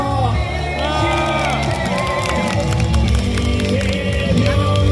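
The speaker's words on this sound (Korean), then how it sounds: "다시 한번 큰 박수 부탁드리겠습니다." Rally crowd at a presidential candidate's street speech near Yatap Station, cheering and whooping loudly and continuously throughout, dense and close with shouts mixed in and voices carrying over the noise.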